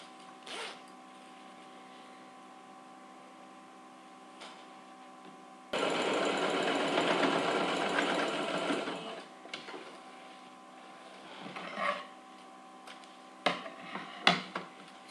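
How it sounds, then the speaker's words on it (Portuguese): A sewing machine runs for about four seconds stitching a straight seam on a crossbody bag, a steady close mechanical whirr after quiet handling, followed by fabric rustles and small clicks. "Pique com pique e costura reta."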